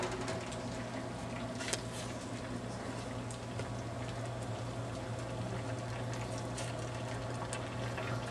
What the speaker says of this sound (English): simmering in high heat, almost boiling, and cook for about 3 minutes and we are done